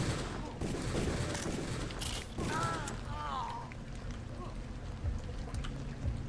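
Scattered gunshots crack in the video game Deus Ex Revision over a busy game soundscape. Someone talks over the fire and occasional chirping effects.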